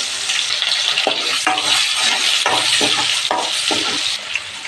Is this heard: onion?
yes